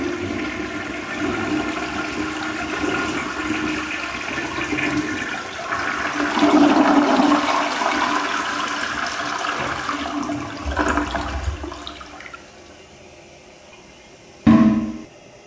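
An old toilet in an abandoned 1915 mansion flushing, a long rushing gurgle of water that swells and then drains away, close and steady, ending with a short clunk.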